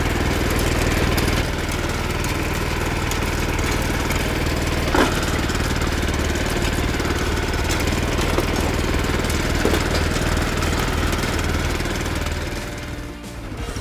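An Asia power tiller runs steadily while rotary tilling in a field, a continuous, loud, droning engine rumble with a slight rattle that holds throughout and eases slightly at the very end.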